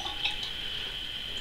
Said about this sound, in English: in goes a bit more water.